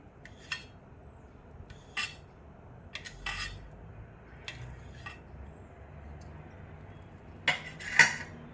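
A knife cuts leftover idlis lengthwise against a board, giving a few scattered soft taps and scrapes, with a brighter clink near the end, close and quiet in an otherwise still kitchen.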